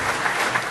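An audience applauds as Congressman Greg Walden is welcomed at a morning show event, a brief, dense wash of clapping.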